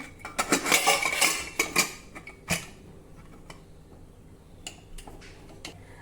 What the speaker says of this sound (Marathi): आता यावर झाकण ठेवू आणि कुकर बंद करून घेऊ